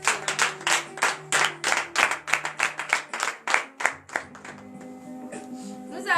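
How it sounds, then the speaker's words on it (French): A church congregation at a Saturday morning prayer service in Comè, Benin claps in rhythmic, steady bursts for about four seconds, then the clapping thins out as sustained tones and voices remain. "veuillez vous lever sur vos pieds et donner de vive acclamation"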